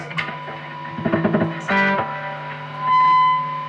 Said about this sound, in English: You don't have to do much to make it squeak and feedback.